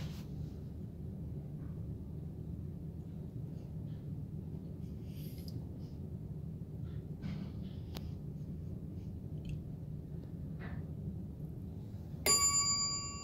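A chime from a 1977 Dover hydraulic elevator rings once near the end, a bright short ding over a low steady machine-room rumble.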